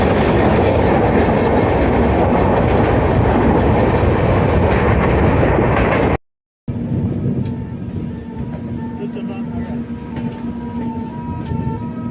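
Passenger train rolling over a rail-cum-road bridge across the Godavari river, a loud steady rumble with clickety-clack of the wheels, a brief cut partway, then a quieter continued rattle with a steady hum.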